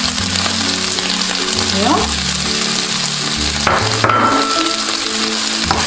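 Garlic frying in a pan for a vegan Massaman curry, a loud close sizzle with stirring scrapes and a few clanks of a utensil, with one brief spoken word.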